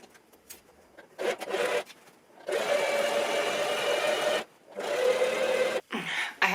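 A sewing machine stitches a seam on a crop top in several bursts of whirring, buzzing motor and needle noise, one short and two longer runs, close up and separated by brief pauses.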